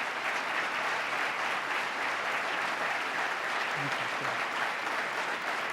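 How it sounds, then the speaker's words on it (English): Sustained audience applause at a governor's speech outlining a state agenda in New York, a dense, even wash of many hands clapping throughout, with no voices rising above it. "Let's give them a round of applause for believing in New York."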